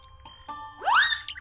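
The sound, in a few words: doorbell rung repeatedly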